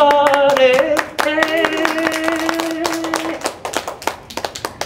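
Scattered hand claps and taps during an a cappella parody song at a children's magic show, sharp close-up strikes under a sung melody, growing denser and then thinning into separate claps near the end.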